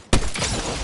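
A single loud sniper rifle shot in a video game, a sharp crack followed by a rolling echo that fades over under a second.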